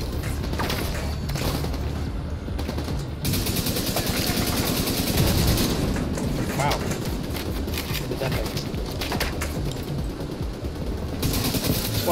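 Video game gunfire in The Division 2 rattles in repeated bursts of automatic shots and impacts near a crane, with a player talking over the fighting throughout.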